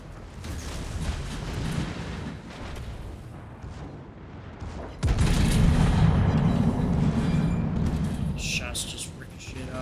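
Heavy naval gunfire from a Tier 7 German battleship in World of Warships arrives as deep booms, with a loud rumbling salvo midway. Someone talks over the battle noise throughout.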